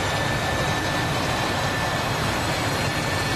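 In a DCS flight simulator cockpit, the left jet engine spools up from start toward idle, a steady broadband roar with a thin high whine running unbroken and fairly loud, no voices over it.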